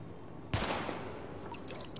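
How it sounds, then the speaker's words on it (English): Sidearm pistol shots fired at highlighted targets in the video game The Division, a loud burst of gunfire starting abruptly and continuing with sharp shots toward the end. "Switch to your sidearm. Double tap Y. Weapon test initialized. Open fire at the highlighted targets."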